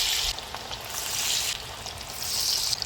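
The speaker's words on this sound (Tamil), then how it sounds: "எண்ணெய் நல்லா காஞ்சிருக்கான்னு செக் பண்ணிவிட்டு நாம் ஒரு வடையாக எடுத்து இதில் போட வேண்டியது தான்" Beetroot masala vadai sizzle as they fry in hot oil, a steady close bubbling hiss that holds through the whole stretch with no voices over it.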